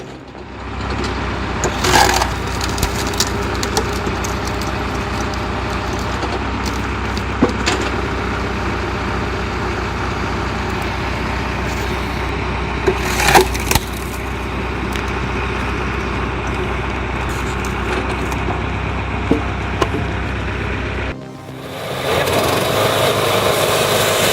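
A PTO-driven log splitter on a Zetor 4340 tractor, exerting 18 tons of force, splits firewood over a continuous engine drone, with several sharp cracks and splintering snaps of wood breaking apart, and a change in engine tone near the end.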